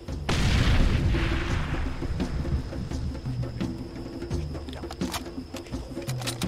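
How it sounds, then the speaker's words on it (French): Grenade blast in the video game Far Cry 2, one loud booming explosion near the start with a long rumbling tail fading under game ambience and faint bird calls. "Allez, une bonne grenade."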